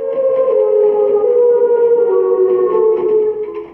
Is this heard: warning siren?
yes